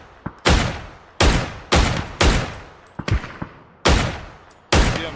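Gunfire in the PUBG video game, with a FAMAS and Dragunov in play: loud, sharp single shots spaced irregularly, about eight reports with echoing tails, alone without talk.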